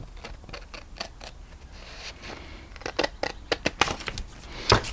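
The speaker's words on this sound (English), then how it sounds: "So I'm going to use some big scissors for that one." Big scissors snip through paper in a series of sharp, crisp cuts, sparse at first and then quicker and louder toward the end.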